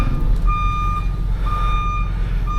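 A Transit van's reversing beeper sounds three evenly spaced loud tonal beeps over a rumbling idling engine, close by, with no talk.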